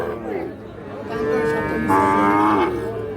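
A Sahiwal calf of about five or six months lets out a long, drawn-out moo that swells in the middle, close by at a cattle market, with crowd chatter underneath.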